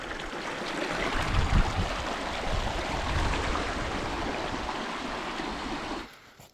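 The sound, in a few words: small mountain stream of snowmelt flowing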